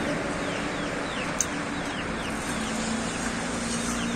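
Hens cluck and murmur softly at a moderate distance around a farmyard, with scattered short calls over a constant outdoor hiss. No one speaks.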